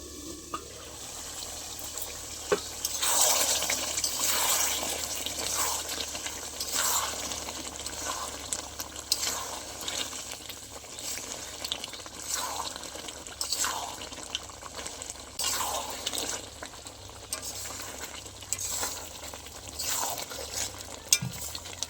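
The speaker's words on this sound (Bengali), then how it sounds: "এইভাবে জল দিয়ে দিয়ে চাপা দিয়ে দেবো" Water splashes and stirring sounds as water is added to chicken being cooked down in a pot for a bhuna chicken, with steady liquid noise and repeated scraping strokes throughout, no talking.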